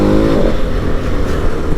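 Loud, continuous engine roar of a KTM 1290 Super Adventure motorcycle on Michelin Anakee Adventure tyres, heard up close while being ridden hard into corners, with steady rumble and some wind noise throughout.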